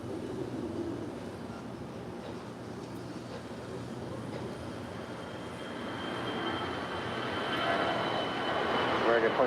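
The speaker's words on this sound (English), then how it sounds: "that 787-9 Dreamliner landing here on 25 left here on the south side" An Air Tahiti Nui Boeing 787-9 Dreamliner landing on runway 25 left at LAX, a distant jet roar that grows steadily louder toward the end, with a person talking throughout.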